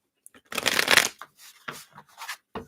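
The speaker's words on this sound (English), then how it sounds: "Let me shuffle these up again here." Playing cards riffle and shuffle in a loud burst, followed by a few softer shuffling and tapping sounds.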